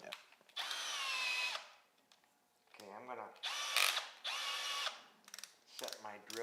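A power drill whirs in several short bursts while being used on a fish reproduction mold, the motor spinning up and stopping between pauses, with quiet talk and a clicking mechanism in the gaps.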